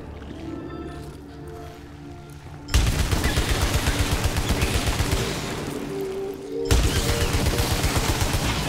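Rapid gunfire in the PS5 action game Returnal, with two sustained bursts of loud automatic fire over a low ambient hum, the first starting abruptly after a quiet stretch and a second burst kicking in near the end.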